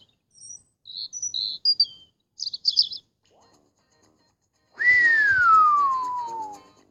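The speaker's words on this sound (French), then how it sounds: "Rouge-gorge." European robin singing, a string of short high chirps and trills in quiet, then a louder sustained descending whistle near the end.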